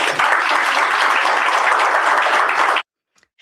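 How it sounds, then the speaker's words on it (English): Dense audience applause at a district attorney candidate debate, a steady burst of clapping for a few seconds that cuts off abruptly into silence. "Too much applause for that."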